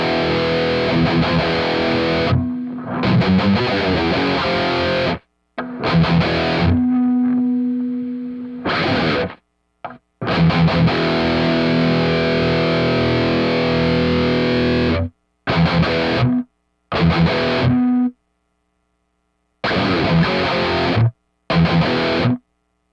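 Distorted electric guitar through a Headrush Prime amp model with a noise gate, loud chugging riffs and sustained chords in bursts, cutting to silence between phrases.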